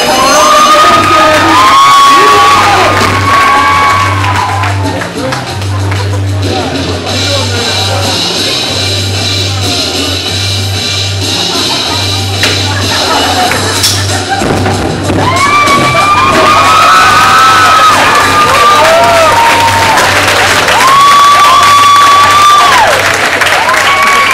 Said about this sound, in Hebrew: קבלו אותו במחיאות כפיים.